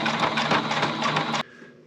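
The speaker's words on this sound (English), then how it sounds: "we are back from the sewing machine" A sewing machine runs in a fast, steady rattle of stitches up close, then stops abruptly, leaving quiet room noise.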